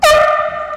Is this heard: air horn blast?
yes